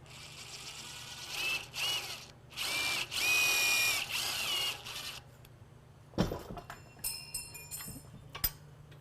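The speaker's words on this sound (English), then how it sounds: "I have a hammer drill here with a magnetic holder, and let's see how this does. This is 410 stainless" Hammer drill with a magnetic holder driving a 410 stainless self-drilling TEK screw into 12-gauge metal held in a vise: loud whirring bursts with brief pauses, then clanks and rattling handling noises near the end.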